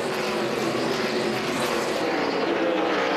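K&N Pro Series stock cars race in a pack at Phoenix, their engines forming a loud, continuous roar that holds steady and slightly shifts in pitch as the field passes.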